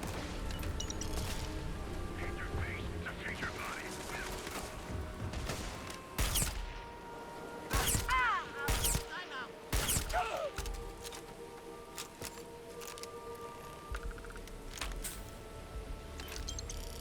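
Gunfire in the video game Starfield cracks out as a few sharp shots in quick clusters, set against a steady game soundscape of hum and effects.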